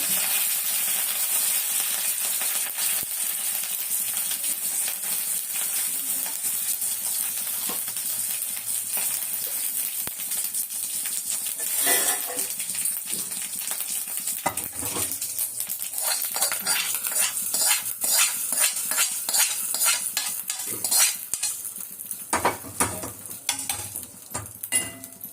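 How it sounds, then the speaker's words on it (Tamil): Chutney is tempered with curry leaves and dried red chillies in hot oil, giving a steady crackling sizzle with frequent scraping and clinking of a metal spoon against the pan, busier toward the end, no voices. "ஃபஸ்ட்டு சட்னியை தாளிச்சுப்போம்."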